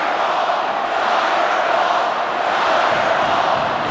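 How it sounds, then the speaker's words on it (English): An ice hockey arena crowd roars steadily and loudly while waiting on a critical referee call, a dense continuous wash of voices and cheering close around. "Crowd getting revved up as we await."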